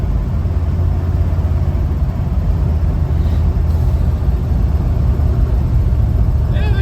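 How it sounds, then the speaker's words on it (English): A 1971 Ford F250 pickup rolls along with a steady drivetrain drone and a broad whining hum from its manual transmission gears, loud and continuous with road noise. "Transmission. Just the gears whining."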